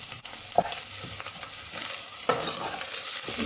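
Ingredients for gongura curry frying in a pan give a soft, steady sizzle, with a couple of brief stirring scrapes; faint and close, no voices.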